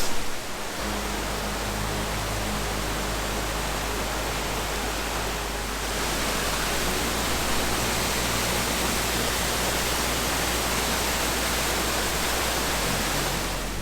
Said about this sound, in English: Here we are at Elikala Falls.